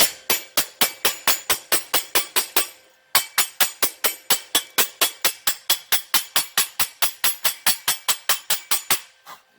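A hammer chips slag off a fresh weld made with a Rohr Smini 120NI welder. The sharp metallic taps come close and fast in a steady rhythm, about thirty of them, with one brief pause partway through.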